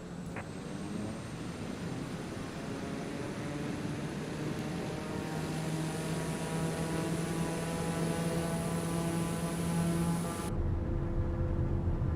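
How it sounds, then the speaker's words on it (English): A game airplane rolls down runway 21 and lifts off in Microsoft Flight Simulator, a steady engine drone with rising tonal whine building over several seconds before cutting abruptly near the end, with no talking. "Sierra Alpha taking off runway 21 west departure."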